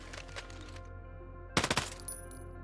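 A short, quick burst of P90 submachine gun fire in Ghost Recon Breakpoint, about five sharp cracks in a tight rhythm, set apart from quieter background clatter and a faint hum.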